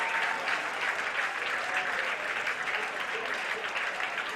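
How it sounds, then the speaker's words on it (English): Crowd applause at an amateur baseball state tournament game, a steady sustained clapping from spectators in the stands that holds at an even level throughout, with some faint voices mixed in. "a round of applause for the full layout there"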